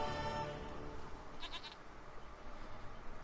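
Goat bleating in The Witcher 3, a faint short wavering bleat partway through over a low ambient game background.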